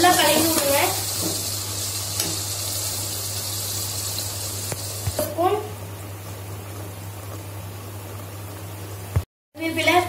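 Curry leaf paste sizzles steadily in oil in a frying pan as it is stirred, a continuous hiss with a low hum underneath and a brief dropout near the end.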